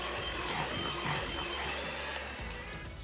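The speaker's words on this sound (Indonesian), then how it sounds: "Lalu mixer dengan kecepatan paling tinggi sampai adonannya mengembang, berwarna putih, mengkilat dan berjejak." An electric mixer at top speed beating steamed sponge cake batter, a continuous even motor whir with a low steady hum, held at moderate volume without pause.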